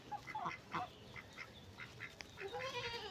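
Domestic ducks quack in a series of nasal calls, several overlapping at close range, with a rising, drawn-out honking call toward the end; no talking.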